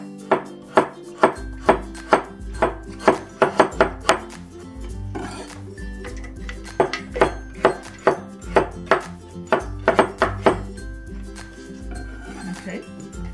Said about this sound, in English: I'm going to slice it, cut in half, and just thinly slice it in a diagonal.